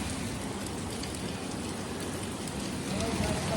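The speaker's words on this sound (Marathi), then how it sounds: "आणि आत्ता पण जाम घाण पाऊस पडते" Heavy rain pours down in a dense, steady wash of noise that stays even throughout.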